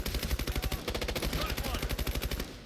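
Enemy assault rifle fire in the Ghost Recon Future Soldier shooter, rapid automatic bursts of sharp cracking shots in a steady rhythm, moderately distant, with faint shouting mixed in.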